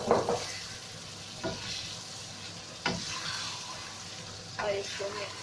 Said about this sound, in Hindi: तो हम इसमें कीमा ऐड करेंगे।